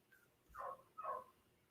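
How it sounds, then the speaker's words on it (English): Dogs barking, heard as two short, fairly faint barks about half a second apart against a quiet background. "the sound of dogs barking"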